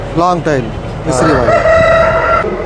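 A show rooster at an exhibition crows loudly and close, a long drawn-out call following a couple of shorter clucking sounds.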